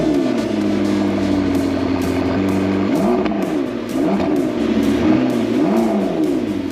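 A wrecked, salvaged McLaren 650S supercar with low mileage idles and revs up nearby. The engine tone rises and falls in several loud sweeps over a steady mechanical drone.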